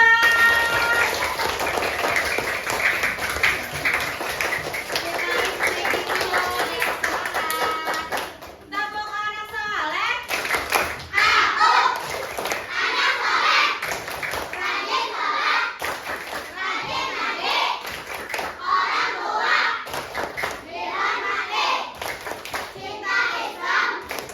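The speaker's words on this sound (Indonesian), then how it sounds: "Kita beri tepuk tangan untuk kita semua." A class of young children claps together in a classroom, a loud, sustained patter of many small hands with excited children's voices and an adult talking over it.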